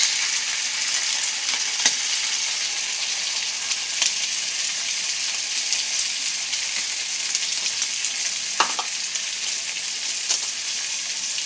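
Chicken stir-frying in a pan gives a steady, close sizzle with occasional scrapes and clinks of stirring, with no talk.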